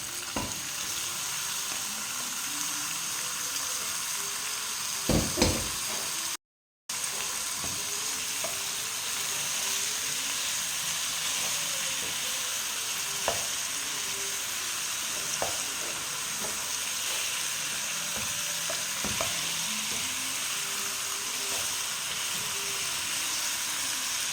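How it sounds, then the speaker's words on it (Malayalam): Chicken pieces frying in spiced masala for a chicken kurma, a continuous close sizzle with occasional spatula scrapes and clacks as it is stirred, a brief gap of silence partway through, no one speaking. "ഒരു സ്പൂൺ മസാലപ്പൊടിയും ചേർത്ത് ഇളക്കാം ഇനി നമുക്ക് ചിക്കൻ പീസ് അതിലേക്ക് ഇടാം"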